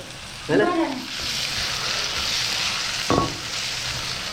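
Steady, loud sizzling of onions frying in hot oil for Jaffna vegetable kool, with brief bursts of speech near the start and again a few seconds in.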